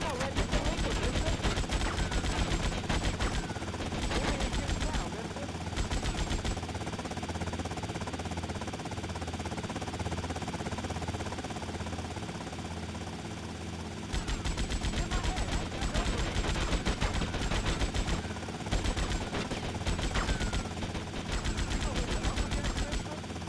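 Gunfire in the Grand Theft Auto: Vice City Definitive Edition game, with bursts of rapid automatic shots and crackling volleys that come in waves over a constant loud background of game noise, pausing in the middle before resuming.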